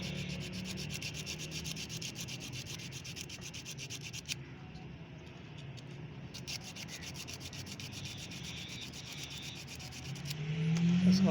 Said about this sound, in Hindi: तो ब्रेकर पॉइंट को हम रेगमाल की मदद से साफ करेंगे।